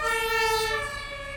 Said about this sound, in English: an ambulance passing by